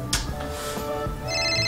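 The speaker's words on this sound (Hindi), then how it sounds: "लगता है मम्मी मेरे फ्रेंड का फोन आ रहा है" An electronic phone ringtone chirps in a bright repeating pattern, fairly close and steady, with no one speaking over it.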